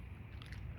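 Close crunchy bites into a raw garden leaf with a spinach-like taste, a short crisp burst of crunching and chewing with no talk.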